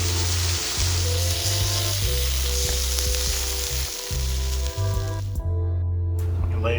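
Pan-fried dumplings crisping as the last liquid cooks off give a strong, close sizzle and crackle, under a voice and a low hum, then the sizzle stops abruptly near the end.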